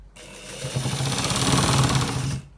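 A sewing machine runs steadily for about two seconds, stitching the sleeve of a designer button-up shirt, its rapid needle rhythm close and even before it stops abruptly.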